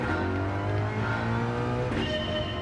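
Ford Mustang GR3 race car engine in Gran Turismo 7 at Le Mans, a loud, steady, close engine drone that holds one pitch and then shifts up to a higher note near the end, with no talk.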